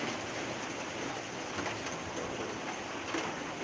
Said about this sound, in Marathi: अर्धा पाऊन तास पाऊस मस्त पडला